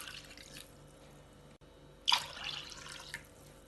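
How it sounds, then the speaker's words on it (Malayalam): Two cups of water poured into a pot already holding half a cup of milk, for venpongal: one short splashing gush near the middle, otherwise a quiet kitchen. "ഇനി 2 കപ്പ് വെള്ളം ചേർക്കാം."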